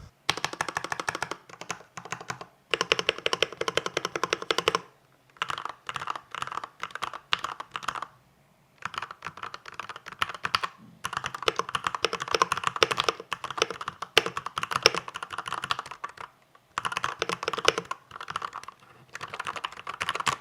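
Brisk clicky mechanical keyboard typing in bursts, rapid keystrokes with short pauses between, close and fairly quiet.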